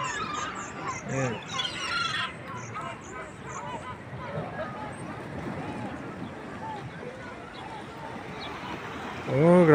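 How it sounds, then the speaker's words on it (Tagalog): Birds, likely chickens, cluck and call at a busy seaside market, set against a constant background of crowd noise and bustle. "dami mga ibon dito"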